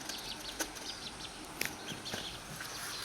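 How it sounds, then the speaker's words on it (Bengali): Chickens clucking while waiting to be fed, soft scattered clucks and brief calls at a distance over quiet outdoor background, no talking. "আমাকে দেখে মুরগিরা বুঝে গিয়েছে যে খাবার দিবে।"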